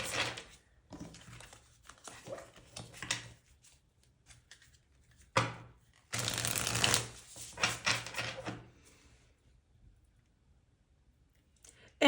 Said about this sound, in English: I just want to shuffle.